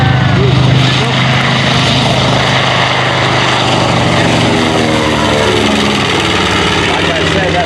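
B-25 Mitchell bomber Panchito flies past at an air and space show, its propeller engines a loud sustained drone with a shifting pitch, steady and continuous with no clear talk over it.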